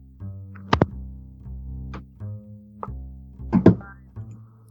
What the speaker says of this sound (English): Roll me a d10.